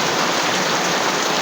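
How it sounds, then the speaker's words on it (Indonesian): Heavy rain pours down steadily at a riverside fishing spot, a dense, loud, unbroken hiss with no pauses. "Aduh, serangan hujan."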